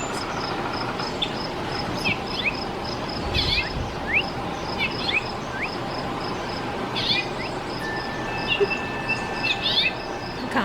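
A house finch sings in bursts of quick, high, twittering chirps, repeated several times over steady broadband outdoor noise and a low rumble.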